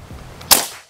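A single sharp shot from a Predator Mini OD 38 PCP air rifle: one close, loud crack with a hissing tail that fades within half a second, following quiet background.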